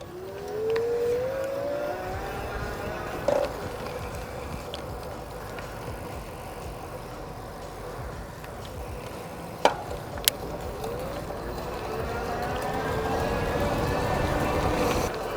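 An Aventon Soltera commuter e-bike rides along at pedal assist level 5 with no throttle, its motor whine rising in pitch as it speeds up, over steady road and wind noise, with a couple of sharp clicks.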